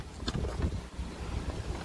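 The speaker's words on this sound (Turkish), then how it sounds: "Şöyle bir yandan da rüzgar esiyor." Gusty wind buffets the microphone in low, uneven rumbles, with no voices present.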